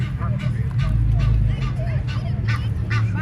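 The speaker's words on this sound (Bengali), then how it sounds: "এটি হলো গাঞ্চিল ওই পাতি হাঁসও আছে" Gulls and common ducks call together outdoors by the water, with repeated honking and squawking cries over a low rumble, as people talk nearby.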